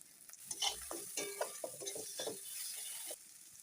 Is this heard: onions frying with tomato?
yes